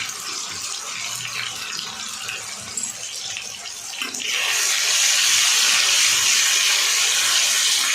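Ginger-garlic paste and cumin frying in hot oil, a steady hiss that swells louder and brighter midway and holds as a constant sizzle, with no voices.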